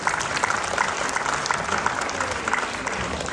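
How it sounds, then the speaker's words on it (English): A crowd at an annual community event breaks into a round of applause, a sustained wash of many hands clapping, loud and even, with faint crowd murmur mixed in. "Please give me a round of applause."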